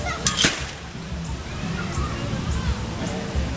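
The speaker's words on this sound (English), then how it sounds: "A little waterfall flows down into a creek, into the water." A small waterfall at a lodge resort pours into a rocky creek, giving a steady, close wash of splashing water throughout, with faint crowd murmur and brief knocks near the start.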